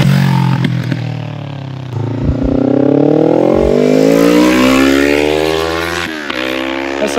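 A 2020 Yamaha MT-03 motorcycle revving up close, the engine note climbing steadily in pitch to a loud sustained roar before dropping back briefly and rising again.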